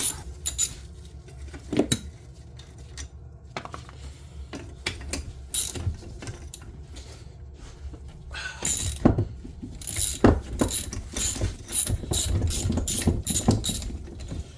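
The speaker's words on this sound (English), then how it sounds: "we'll see how much fun we have trying to loosen these bolts" A ratchet works loose bolts on a 1967 Plymouth Barracuda, with repeated metallic clicking strokes and clanks in an uneven rhythm, quiet at first and growing busier and louder near the end, with no voices.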